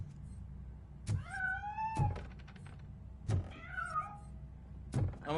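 A domestic cat meows twice, each call a rising-then-falling tone, with dull thunks and clicks from a car interior around it and a low rumble underneath.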